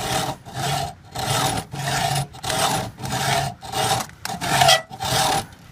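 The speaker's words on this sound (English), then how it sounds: "I don't have any tubing cutters, so I'm going to use a hacksaw" A hacksaw cuts through air conditioner copper tubing in eight steady back-and-forth strokes, each a loud close rasp separated by short pauses.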